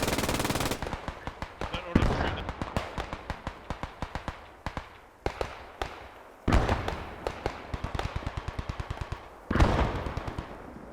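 Rapid automatic gunfire rattles through a video game battle in dense bursts, with pauses between them and heavier shots now and then, loud and close throughout.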